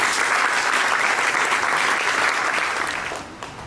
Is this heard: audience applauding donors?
yes